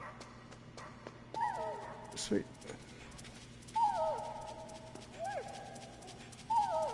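Dogs whimper and whine in Metal Gear Solid, several rising high-pitched cries spaced a few seconds apart over game background noise, with a brief spoken word.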